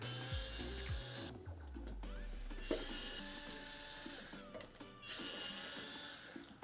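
Small screws being backed out of the plastic cover over a bike speed sensor, with a quick ratcheting, clicking driver sound in a few close bursts and short pauses between them.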